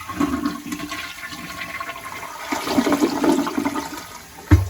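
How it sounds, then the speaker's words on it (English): A toilet flushing freely after a clogged drain was cleared with a sewer snake machine, one close, full rush of swirling water that swells and fades, ending with a short knock. "Watch how this flushes now that it's unclogged."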